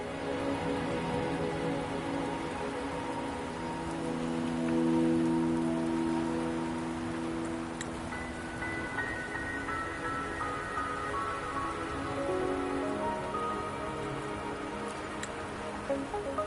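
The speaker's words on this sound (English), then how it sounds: "Are you trapped here by the rain?" Steady rain falls throughout in the video game Wuthering Waves on PS5, a constant hiss with soft tonal music layered underneath, at an even level with no talking.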